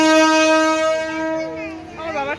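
A toy train's electronic whistle sounds in long, steady tones, then bends and warbles into a quick melodic jingle near the end.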